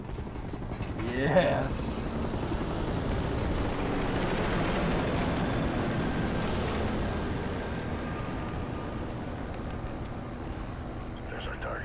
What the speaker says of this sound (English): Chopper's landing.